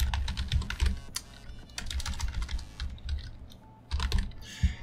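Rapid computer-keyboard typing on a desktop setup, a close, busy stream of key clicks in bursts with short pauses, no voices.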